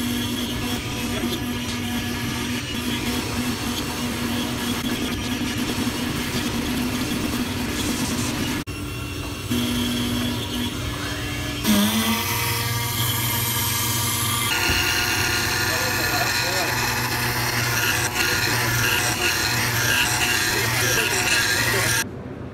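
A CNC-style machine routes letter slots and rectangular pockets into wood blocks for a segmented turned bowl, a steady loud whine and hum with shifting tones as the cut path changes.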